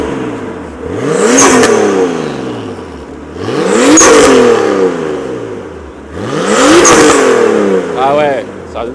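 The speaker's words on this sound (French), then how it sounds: "Tu nous fais un tout petite accélération pour entendre?" A warm car engine revs in three short bursts, each climbing and falling back, loud and close, with brief voices between the revs.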